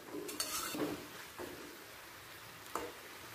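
A nearly cooked winter vegetable curry is turned over in a pan with a few quiet, close scrapes and knocks of a spoon against the pan, with soft low background hiss between strokes.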